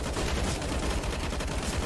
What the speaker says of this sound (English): Started shooting before he even turned around there.